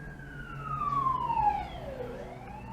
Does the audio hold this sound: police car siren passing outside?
yes